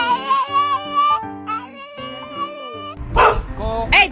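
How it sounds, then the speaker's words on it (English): A pet dog sits indoors making repeated yips and short whining barks, its sharp high cries close and in bursts over several seconds, with no talking. "don't you bark at me"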